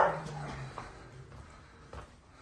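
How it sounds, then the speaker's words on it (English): A wolfdog brought indoors on a very windy day gives a close, high whimper at the start, followed by a few softer whines and small noises against quiet room background. "two of our big bad wolf dogs are coming inside"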